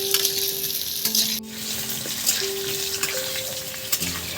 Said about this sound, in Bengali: এবার হচ্ছে আলুটা ফ্রাই করে নেওয়া চলছে এখন।